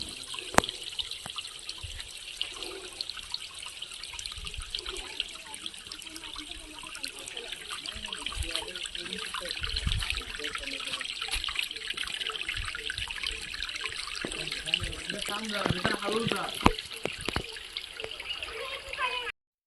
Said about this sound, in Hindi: देखिए, पहाड़ के चट्टानों से रिसता हुआ पानी।